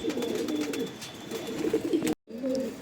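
Pigeons at a sale of tournament-champion Andhra and Madras birds coo in repeated low, throaty bursts close by, several calls overlapping, with a short silence before the cooing resumes.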